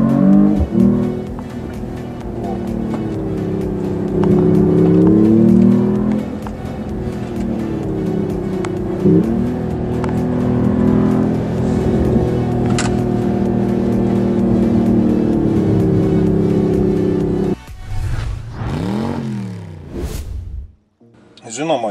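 A Mercedes-AMG E 53 Hybrid drives with a steady engine drone that swells and rises as it accelerates, while someone talks over it; near the end the engine note sweeps up sharply through quicker revs.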